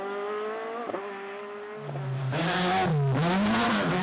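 A rally car at the Mayo Stages Rally engine revs hard as it slides into a ditch, its loud, close tone rising, dipping and surging again with wheelspin and strained bursts of throttle, with no voices.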